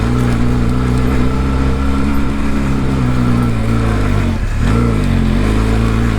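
A Benelli TRK 502X motorcycle engine labours at high revs on a steep hill climb, a loud steady drone that dips briefly as the throttle eases, then climbs again.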